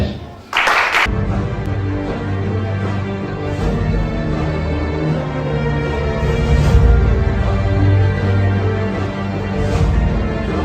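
Church congregation applauding, dense sustained clapping that starts abruptly and continues steadily with a low murmur of voices and music beneath.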